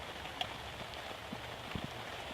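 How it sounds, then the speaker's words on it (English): Steady rain falls outdoors in a wooded bushcraft setting, a soft even patter with a few closer drips, faint and continuous with no voices. "As it is raining"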